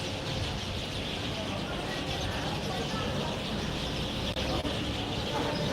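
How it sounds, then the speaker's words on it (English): A large flock of birds chirps and twitters in a tree along a seafront walk in Puerto Pollensa, Mallorca, a dense continuous chatter mixed with outdoor ambience and distant traffic. "Got literally loads of birds up in that tree."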